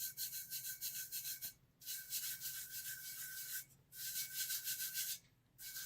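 Glitter being rubbed flat on a wine tumbler, heard as close, even hissing rubbing strokes in three long passes with brief pauses between them and no voice.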